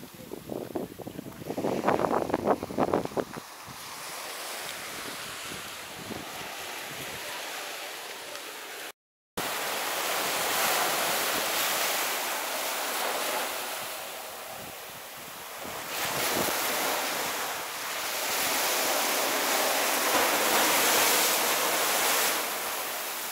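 Ocean waves wash continuously onto a public beach in St Maarten, a broad steady roar with heavy wind buffeting the microphone and a brief dropout midway.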